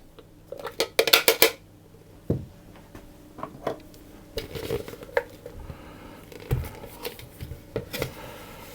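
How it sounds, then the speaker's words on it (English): A mixing bowl of tart dough for raspberry almond chocolate tarts is scraped out onto a work surface, giving a run of close clinks and scrapes from a utensil against the bowl, loudest near the start, then scattered softer knocks. "I'm then going to tip that out onto my surface and scrape out the bowl"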